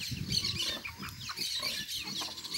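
Chickens and a rooster cluck on a small farm during morning chores, a busy overlapping chorus of clucks and bird calls heard close and steady, with no talk.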